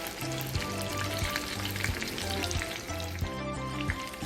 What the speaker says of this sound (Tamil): அப்போ தான் நல்லா எல்லா சைடும் ஈவனாக நல்லா ஃப்ரை ஆகும்